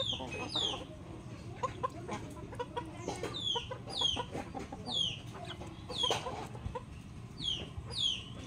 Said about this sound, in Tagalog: Kita nyo guys, daming manok.